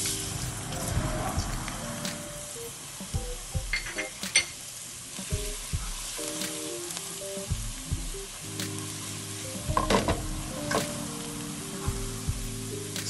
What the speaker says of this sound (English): first we are going to start off by frying up our garlic